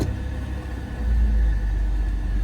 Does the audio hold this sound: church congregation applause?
no